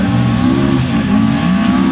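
A Ford Escort rally car driven by Jim Wheeler at Race Retro 2011 runs loud and close, its engine a strong, continuous low growl with slight shifts in pitch.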